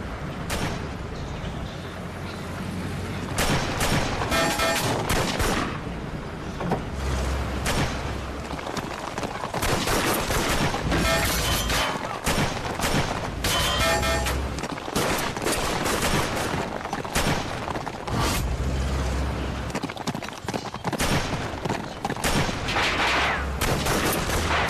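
Gunfire fills a period action film scene, with dense bursts of automatic and rifle fire. The shots come in rapid volleys over about twenty-five seconds, loud and close, with short lulls and heavy low booms.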